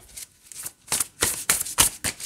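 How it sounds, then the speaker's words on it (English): A tarot card deck being overhand shuffled by hand, heard up close as a run of quick papery riffling bursts that come in irregular clumps with short pauses between them. "Shuffle a little bit, and then I overhand shuffle with this deck"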